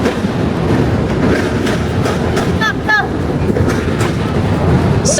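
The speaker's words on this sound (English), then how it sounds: "Another L train going by." A Chicago L elevated train rumbles past on its tracks, a loud, steady roar with rhythmic clatter and a few brief squeals, filling the whole stretch with no pause.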